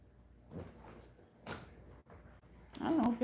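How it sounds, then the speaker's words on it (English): A squeak in a room comes in as a few soft creaks and knocks, then a louder, wavering high-pitched squeal near the end, heard close by. "I don't know if y'all hear that noise. It's kind of annoying. It's like a squeak."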